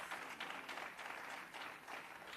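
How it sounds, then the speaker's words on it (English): Audience at an education officers' annual general meeting and conference in Jamaica applauding, a steady wash of many hands clapping heard faintly from a distance and sustained throughout. "Give him another round of applause."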